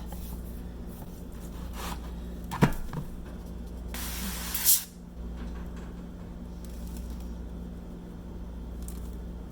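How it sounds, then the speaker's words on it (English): Avocado oil is spritzed from a spray bottle onto a whole raw chicken, a few short hissing bursts and one longer spray close by, with faint kitchen handling noises in between. "I'm gonna spray my chicken with a little bit of avocado oil just so the seasonings will stick really well"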